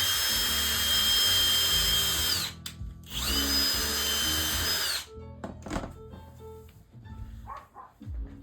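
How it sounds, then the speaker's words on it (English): Power drill boring holes for a bifold door installation, two sustained high whirring runs with a short pause between, then clattering handling noises. "Drill the holes."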